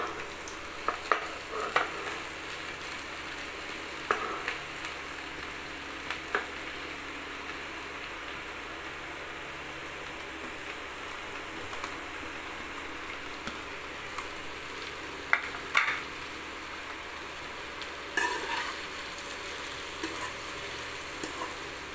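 Spring onions sautéing with salt in a pan give a soft, steady sizzle throughout, faint and even, dotted with occasional light clicks and taps from stirring.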